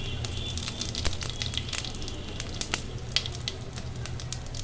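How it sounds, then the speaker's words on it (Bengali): Whole cumin seeds frying in hot oil for a mutton rogan josh, a close, steady sizzle with scattered sharp crackles and pops throughout, no talk. "তেলে দিয়ে দিলাম। 1/4 টিস্পুন গোটা জিরে বা হোল কিউমিন"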